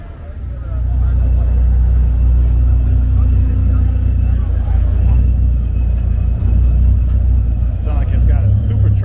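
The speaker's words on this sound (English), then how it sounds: "Sounds like it's got a supercharger on it." A supercharged car's engine rumbles deep and loud at close range, idling steadily at Pebble Beach car week near Monterey, with people talking nearby.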